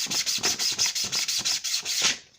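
Rhythmic back-and-forth rasping of sandpaper on wood, about a dozen even strokes in quick succession, close up, ending abruptly.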